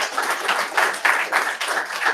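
Listeners clap after a technical talk on consensus algorithms, a brief burst of steady, fairly loud clapping from a modest crowd.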